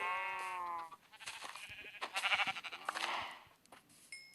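A single Minecraft sheep bleat rings out clearly at the start, followed by scattered soft clicks and rustling noises, with no talking.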